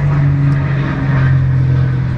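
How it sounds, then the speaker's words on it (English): A propeller airplane passes overhead in Orlando, Florida, a loud, steady low engine drone with a strong hum that holds without a break, and nobody talks over it. "Plane overhead."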